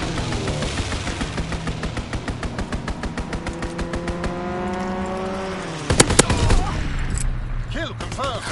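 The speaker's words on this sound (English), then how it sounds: "Enemy strafing run inbound." Enemy aircraft strafing run in a video game: rapid machine-gun fire rattles over a roaring engine whose pitch sweeps down as the plane passes, then a couple of sharp, loud impact bursts near the end.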